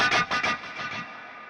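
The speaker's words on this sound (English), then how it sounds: "on the right-hand side, I have that lovely Stratocumulus cloud reverb on there" Electric guitar played through an AM4 and FM3 dual-amp rig with delay and a Stratocumulus cloud reverb, a few distorted strummed chords followed by a long, washy ambient tail that slowly fades, heard alone.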